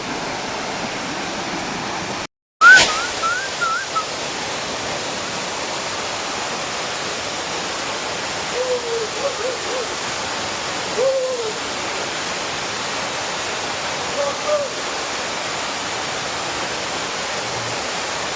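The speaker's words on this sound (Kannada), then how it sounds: "ಎರ್ಮಾಯಿ ಫಾಲ್ಸು ಸೂಪರ್ ಆಗಿದೆ." The Ermayi waterfall in Karnataka pours with a constant, even rush of falling water, a hissing wash that fills the whole stretch, with a short dropout near the start and a few faint bird calls over it.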